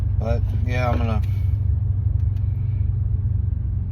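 Low, steady engine rumble inside a car sitting in traffic, a constant drone beneath a man's brief speech at the start that then continues alone.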